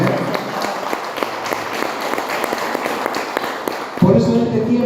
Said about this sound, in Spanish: ¿Cuántos le dan el aplauso al Señor?